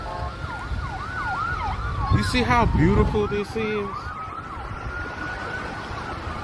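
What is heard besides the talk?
emergency vehicle sirens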